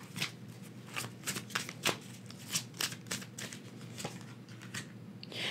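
A tarot card deck is shuffled up close in a quiet room, with repeated soft riffling and flicking bursts in an irregular rhythm and no talking.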